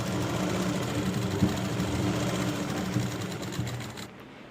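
A sewing machine stitches lehenga fabric in a steady, continuous whirring run with a low motor drone and faint rhythmic chatter, then stops abruptly near the end.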